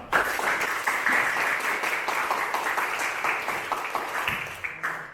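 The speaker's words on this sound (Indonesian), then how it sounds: "Kita tepuk tangan untuk kita semua." Students in a classroom give a steady round of applause for about five seconds, dense clapping that fades slightly toward the end.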